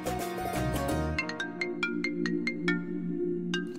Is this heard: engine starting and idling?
no